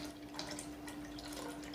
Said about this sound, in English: this is me using the water